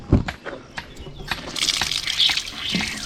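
Cold drinking water pours and splashes at an outdoor spot near Bosnia's Vrbas Canyon, starting with a few knocks and trickles, then swelling into a loud, close, steady gush.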